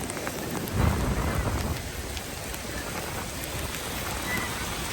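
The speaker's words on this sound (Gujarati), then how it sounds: "જો એકદમ હેવી વરસાદ થઈ ગયો" Heavy rain pours steadily during a sea storm at Nagoa, Diu, a dense continuous hiss with a brief low rumble near the start and no voices.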